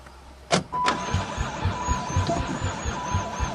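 An old van's engine running on stale gas coughs into life after a click and whirr, then settles into a rough, pulsing idle close by.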